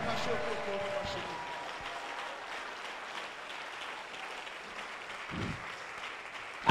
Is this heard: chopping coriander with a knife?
no